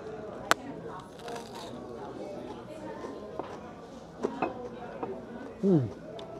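Crunching bites into fried onion rings coated in panko batter, a few crisp close-up crunches scattered over quiet room sound with faint background chatter.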